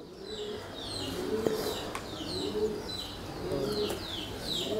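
Punjabi Malwai pigeons coo in soft, repeated rolling phrases at close range, with faint chirps overhead and a quiet background hum.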